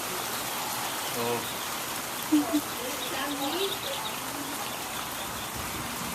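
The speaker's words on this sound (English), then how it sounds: "I love summertime rain." Summertime rain falls steadily on the Fourth of July evening, an even hiss throughout, with a person's brief exclamation and faint chirps of birds over it.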